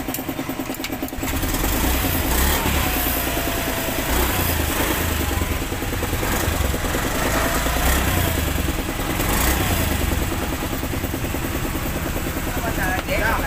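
A Honda Beat 110 FI scooter engine runs steadily after a spark plug thread repair, a close, continuous buzzing idle with a faint voice underneath.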